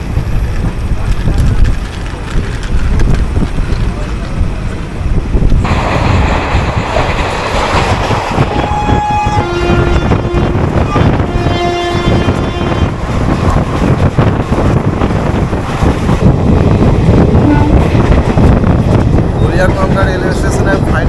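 A train pulls away from Nimtita railway station and runs on, with steady rumbling, wheel clatter and wind noise throughout, loud and close, with brief tonal squeals from the wheels partway through.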